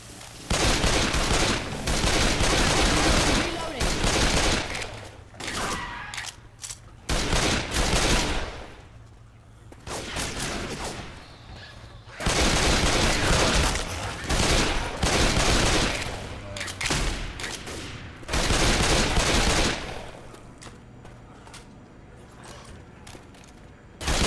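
Gunfire in the video game Left 4 Dead 2 during the Dark Carnival campaign, with rapid bursts of automatic shots in several loud volleys separated by quieter gaps and some speech mixed in.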